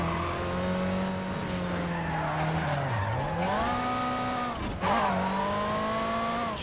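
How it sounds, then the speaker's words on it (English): In the racing game Midnight Club Los Angeles, a car drifts with loud, sustained tire squeal over a revving engine whose pitch dips and climbs as it slides through turns. No one speaks. "I'm gonna drift right now"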